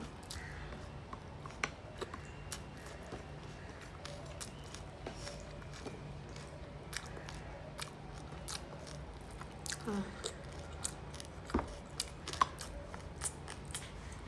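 Close chewing and biting of food heavy with onions, garlic and chili, with soft crunches and wet squishes repeating irregularly over a low steady background hum, no talking.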